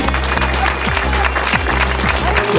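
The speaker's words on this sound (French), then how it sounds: "applaudissements pour Piotr Zielinski" A crowd applauds at a cycling race podium in Landerneau for rider Piotr Zielinski, brief and loud, with a thumping music beat running underneath throughout.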